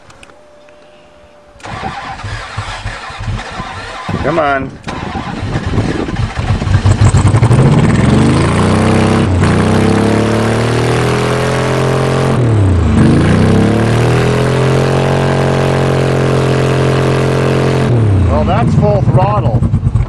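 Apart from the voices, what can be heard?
diesel truck engine starting and running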